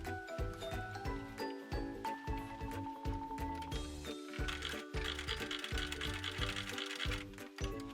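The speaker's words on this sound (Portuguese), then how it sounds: "E vamos costurar a meio centímetro dessa margem." A sewing machine stitches a fabric seam in rapid rhythmic bursts with brief pauses between runs, close and clear.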